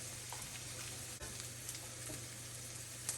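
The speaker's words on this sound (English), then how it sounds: "these onions still have a little bit more to cook" Onions frying in a pan, a soft, steady sizzle with faint crackles and pops, quiet and close, no voices.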